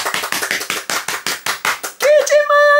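Rhythmic hand clapping, about a dozen sharp claps in quick succession, close and loud, followed by a voice speaking excitedly.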